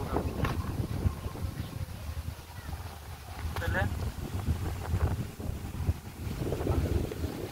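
Strong wind buffets the microphone outdoors in a continuous roaring rush with low rumbling gusts, swelling and easing over several seconds, with voices faintly underneath.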